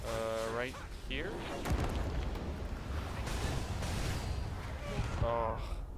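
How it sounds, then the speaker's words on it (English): A boss's area-of-effect explosion in the video game Code Vein sounds as a dense, sustained rumbling blast under game effects, with people talking over it. "Oh, that AoE that she does, that explosion"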